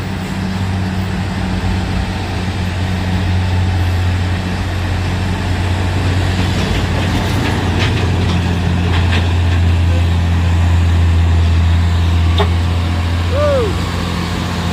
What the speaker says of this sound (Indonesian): ada trailer dengan tangki ya bosku, duet dari bawah sana